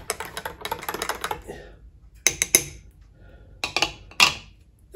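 A spoon stirs hot chocolate in a cup, making close bursts of quick clinking and scraping against the sides, broken by short pauses and a few sharper taps.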